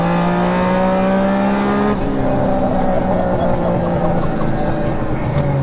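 A turbocharged three-cylinder Toyota GR Yaris engine, sequential gearbox, about 800 bhp, revs hard and loud close by, its pitch sliding as it accelerates, with a rough, strained growl.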